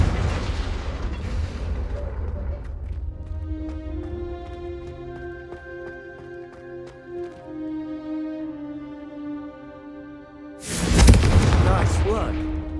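A spell-blast explosion from the Hogwarts Legacy video game erupts with a sharp burst near the end, following sustained tonal magical humming and a low rumble.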